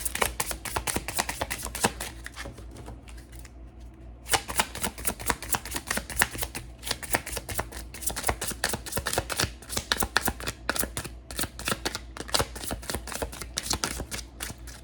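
A deck of tarot cards is shuffled by hand in repeated quick riffling bursts, crisp and close, with a short pause partway through, and no talk over it.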